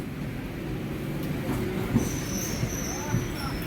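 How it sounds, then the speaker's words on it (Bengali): A train rolls into a station, its low rumble steady with brief squeals and clanks of the wheels, while a few faint voices sound in the background. "ট্রেন চলে আসলো, এখন এই ট্রেনে করেই যাব বেলডাঙা।"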